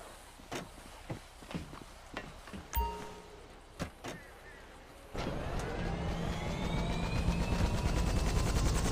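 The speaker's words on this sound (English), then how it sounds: "I guess this is our chopper." Helicopter in the video game High on Life, its rotor and engine drone starting up partway through and building into a steady near roar after a series of scattered clunks and thumps.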